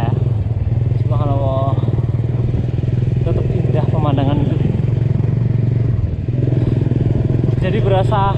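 A Honda WIN 125cc motorcycle engine thrums steadily while riding on a muddy trail, loud and close, with someone talking over it.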